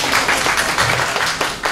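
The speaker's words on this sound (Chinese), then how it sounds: "掌声欢迎我们的蒋正。" An audience at a tech conference session claps to welcome a speaker to the stage, a loud, sustained wash of clapping that carries on without talk.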